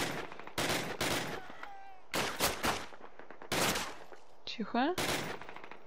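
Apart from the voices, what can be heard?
machine gun fire in the video game Call of Duty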